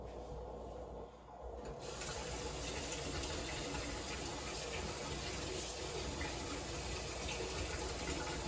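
Hot water runs from a kitchen tap, a steady rushing hiss that swells slightly as the flow opens up and then continues evenly, close and fairly quiet, with no talking.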